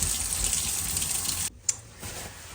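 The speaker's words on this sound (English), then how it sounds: "since there has been meat in this sink, we need to clean it" Tap water runs steadily into a kitchen sink during cleanup after raw turkey, a broad continuous rush that cuts off abruptly partway, followed by a brief clunk and faint drips.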